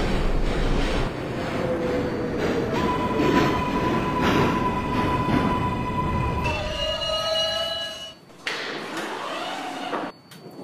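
An R142A subway train on the 6 line in the Hmmsim 2 simulator hums and whines steadily as it runs, with rising motor tones, then the sound cuts to a quieter station ambience with a brief chime.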